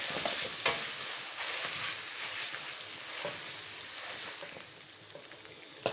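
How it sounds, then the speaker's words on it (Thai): Beef stir-frying with holy basil in a wok, a steady loud sizzle of oil with scraping stirs and occasional clinks of the spatula throughout. "ผัดต่อกัน"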